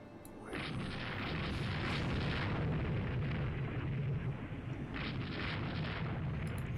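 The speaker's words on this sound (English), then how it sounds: "It's hit by a torpedo." In the naval warfare game Rule The Waves 2, a ship takes a torpedo hit, heard as a deep, rumbling explosive blast. Rolling booming bursts follow for several seconds at moderate loudness, with no voices over them.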